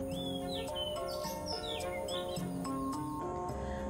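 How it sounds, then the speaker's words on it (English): An Oriental magpie robin sings outdoors beside a mangrove pond, a run of clear whistled phrases and chirps repeating over a steady hum of background noise. "That is the Oriental magpie robin. It is one of my favourite birds because of how beautiful it can sing."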